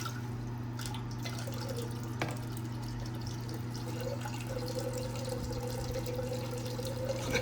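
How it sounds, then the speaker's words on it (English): Distilled water trickles and drips as pieces of refined silver are rinsed, running off into a beaker of spent electrolyte. The dripping is faint and irregular over a steady electrical hum. "Rinse this off with a little bit of distilled water, and we'll add this rinsed water to our spent electrolyte beaker."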